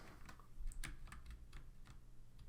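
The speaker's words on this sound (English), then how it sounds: "I'm typing up a message." Someone types a message on a computer keyboard: quick, light, uneven key clicks close to the mic over a quiet low hum, with no talking.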